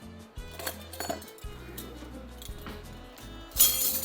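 Metal spoons clink and rattle against each other and glassware in a home kitchen while pizza or pasta sauce is being made, with a few light taps and a brighter jangle near the end.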